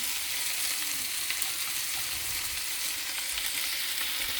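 A small six-inch flour tortilla warms in a pan over medium heat, giving off a continuous bright, hissing sizzle at an even level throughout.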